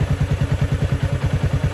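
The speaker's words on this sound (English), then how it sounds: "Let me restart the bike real quick." A motorcycle engine running on a new fuel mixture, a loud, close, steady chugging pulse with a rapid, even beat and a rough, rattly tone, with no voices.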